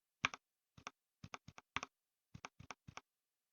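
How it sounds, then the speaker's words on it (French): Crisp computer keyboard key presses click in short irregular bursts, mostly pairs of taps, close and clear against silence. "Je trouve assez relaxant mon clavier. Je trouve agréable le bruit."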